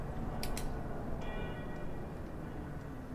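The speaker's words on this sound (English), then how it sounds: "the church bells are getting quite annoying" Church bells ring in the OMSI 2 bus simulator on a London Route 59 drive in a Wright Routemaster: a few faint, distant chimes over a loud, steady bus engine rumble.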